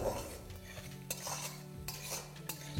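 A utensil stirs garlic and curry leaves in a cooking pan for a Hyderabadi dal, with soft scraping and clinking strokes at a low, quiet level.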